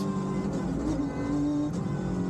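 A rally car engine drones and revs continuously at close range on a stage of the Rally van Haspengouw, its pitch wavering as the driver feathers the throttle.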